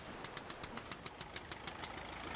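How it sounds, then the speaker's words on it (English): A video game engine starting with a rapid run of evenly spaced mechanical clicks and knocks that settles into a steady engine hum, fairly quiet, with no talking. "Let's get the engine started."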